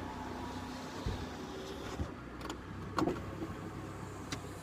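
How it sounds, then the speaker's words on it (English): Power windows on a car roll up with a faint electric motor whine, set against quiet ambient hum and a few soft clicks and thumps inside the cabin. "I am going to roll up the windows for this,"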